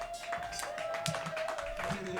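A small live crowd at a funk band's session in Sellersville claps and cheers, a steady wash of hand claps and whoops running through the whole moment at even loudness.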